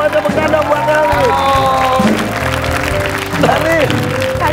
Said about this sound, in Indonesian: Buat tepuk tangan buat Elif.